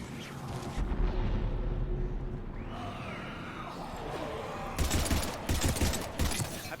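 Distant, muffled gunfire bursts in Mass Effect 3, scattered volleys and a rising whine in the middle, then a tight cluster of rapid shots toward the end.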